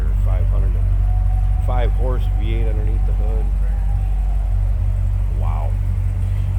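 A 7-liter, 505-horsepower V8 car engine idles with a deep, steady low rumble that runs throughout, while someone talks over it.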